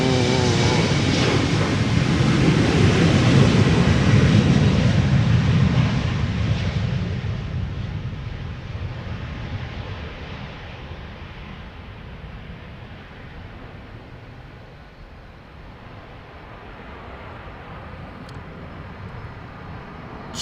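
A KLM Embraer 190 jet departs Amsterdam Schiphol for Düsseldorf. Its engines give a loud, broad roar up close, then fade steadily as the aircraft climbs away into the distance.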